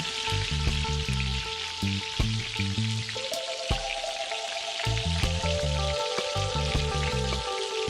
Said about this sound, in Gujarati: આ બોલ્સને દસ મિનિટ પછી ફરીથી બે થી ત્રણ મિનિટ માટે આપણે તળી લેવાના છે